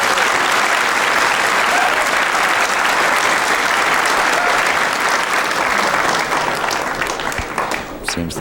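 A packed crowd at the 1993 US Open 9-Ball Championship, during a pool match between Mike Sigel and Johnny Archer, bursts into loud, continuous applause that thins and fades in the final seconds.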